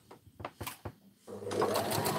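Sewing machine stitching purse fabric, starting after a few soft taps and handling noises, then running in a close, steady whirring burst to the end.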